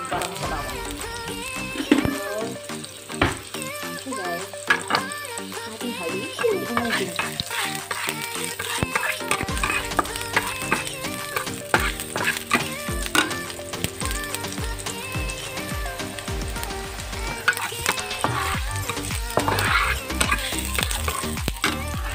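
Ginger frying in olive oil sizzles and crackles continuously close by, with frequent utensil taps and stirring scrapes in the pan throughout.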